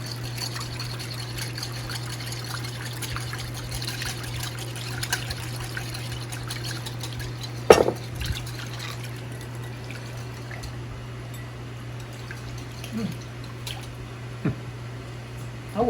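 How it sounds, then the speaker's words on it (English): Canola oil trickles steadily into a beet dressing for roasted beets with orange and feta, a soft continuous liquid stream near and quiet against a steady low hum, with one sharp knock partway through. "And now I'm gonna just add some canola oil."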